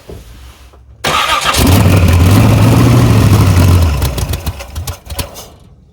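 A 383 Chevy Blazer engine cranks briefly, then catches with a loud, close roar and runs roughly for a few seconds before sputtering and fading as it struggles to keep idling.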